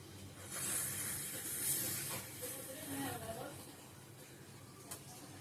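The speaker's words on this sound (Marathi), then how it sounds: "आता आपली ना कढई तापलेली आहे, मग त्याच्यात आपण ना तेल घालून घ्यायचं आणि तूप" Oil and ghee hitting a hot wok give a steady sizzling hiss that swells, then settles into a softer crackle, with someone talking over it.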